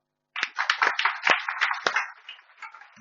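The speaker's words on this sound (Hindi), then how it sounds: "देश के बिजनेसमैन लोग के लिए जोरदार तालियां।" A small audience in a business class claps for businessmen, a burst of scattered hand claps that starts abruptly, stays close and fairly loud, then thins out toward the end.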